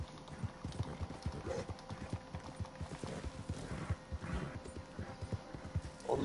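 Hooves of a horse galloping in a video game, a fast steady clip-clop rhythm running throughout, fairly close and moderately loud over a faint background hum.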